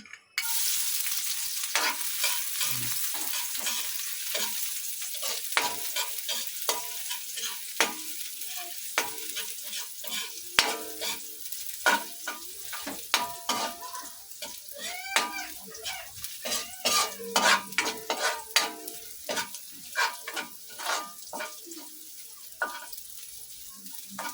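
Garlic sizzles in a hot pan for beefsteak, a soft hiss building into sharper pops and spatters, with bursts of stirring and scraping toward the end.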